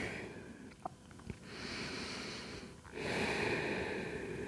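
Slow breathing in child's pose during a yoga session, soft steady breaths with a couple of brief sniffs and a louder exhale near the end, close and quiet in a calm room.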